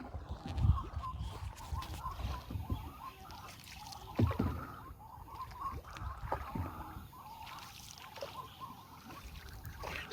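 A small boat rowed through floodwater in Darrang, Assam, with intermittent paddle splashes and water swishing against the hull, fairly close, alongside faint background noise.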